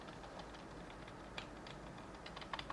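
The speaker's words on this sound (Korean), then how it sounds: "딜리트 키를 연속으로 눌러 메인보드 바이오스 설정으로 들어갑니다." The Delete key on a computer keyboard is pressed repeatedly to enter the BIOS of an ASUS TUF Gaming B760M-PLUS II motherboard, giving faint, scattered plastic clicks over a low steady hum, with a few sharper taps near the end.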